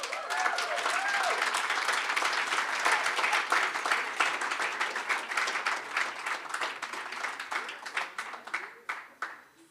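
An audience at a swimming club's annual awards evening applauds in a dense burst of clapping that fades into scattered claps toward the end, with voices faintly underneath.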